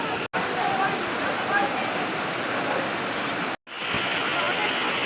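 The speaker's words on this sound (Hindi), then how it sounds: "So beautiful waterfall." A waterfall at Narh, with Panjpeer rocks nearby, roars in a loud, steady broadband rush that fills the whole clip. It cuts out twice for a split second, the second break leading into a slightly thinner stretch of the same rushing water.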